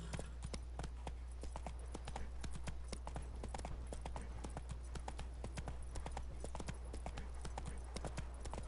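Geralt's horse Roach galloping in The Witcher 3, a fast, steady run of close hoofbeats over a low rumble, with a brief voice.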